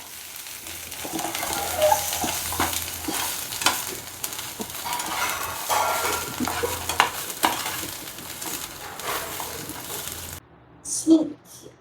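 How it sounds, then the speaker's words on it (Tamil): Ground vallarai greens being stirred in a hot pan for a thuvaiyal, with a steady soft sizzle and scraping of the spoon for about ten seconds, ending in a brief quiet pause and a faint clink. "நம்ம அரைச்ச கீரையை சேர்த்தாச்சு."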